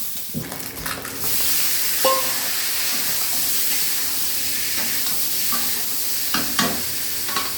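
Eggs fry in a pan for an egg curry, giving a steady close sizzle with occasional clinks and scrapes from stirring.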